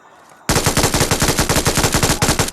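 An MG3 machine gun fires in BGMI, a long rapid burst of evenly spaced heavy shots that starts abruptly after a quiet moment and runs loud and close to the end.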